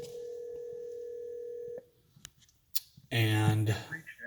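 A Polycom VVX500 or VVX600 desk phone gives a steady dial tone that cuts off, followed by a few soft clicks of key presses and a short buzzy tone; a voice is heard briefly near the end.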